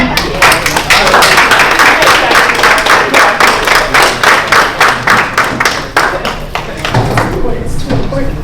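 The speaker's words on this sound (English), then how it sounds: "Please give her a big round of applause." An audience at a Black August national reparations conference claps loudly and close by. The hands beat in a steady, rhythmic pattern like a collective clap-along for nearly nine seconds, with a few scattered thuds mixed in.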